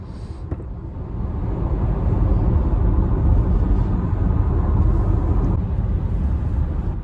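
Volkswagen ID3 1st Edition electric car cruising at speed while overtaking, a continuous low road and tyre rumble that swells slightly in the middle and stays fairly quiet inside the cabin.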